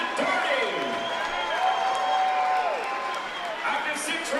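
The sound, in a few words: applause for the boxing winner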